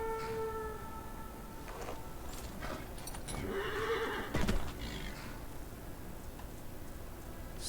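In Skyrim, a short horn call summons a horse, followed by a loud whinny and the clatter of hooves arriving nearby, with no talking.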